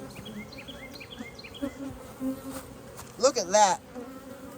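Honeybees in a hive being split to prevent swarming, the colony in swarm mode, give a steady close buzzing that swells into brief louder bursts near the end, with a short spoken remark over it.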